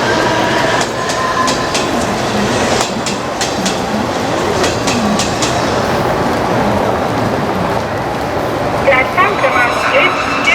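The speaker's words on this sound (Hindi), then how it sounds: "एक जलद गाड़ी जाने वाली है।" A fast train rushes past a platform at Borivali railway station in Mumbai, its wheels clattering loudly and steadily over the rails at close range throughout, with voices faintly audible in the station bustle.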